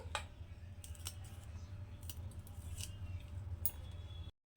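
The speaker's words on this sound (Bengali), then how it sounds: "এবার দুদিকের মুখটাকে আমি এভাবে কেটে নেবো" Green beans get their ends trimmed in a series of sharp, close snips, each crisp cut spaced irregularly against a quiet background hum.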